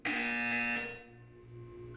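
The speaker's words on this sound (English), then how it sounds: "You will hear a buzzer." A loud electronic buzzer from the Portal 2 test chamber sounds alone in one sustained harsh tone for about a second, then cuts off, leaving a low hum behind it.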